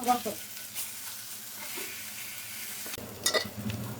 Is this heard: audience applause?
no